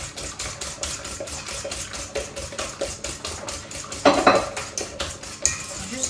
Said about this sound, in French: on va venir mélanger avec la cuillère magique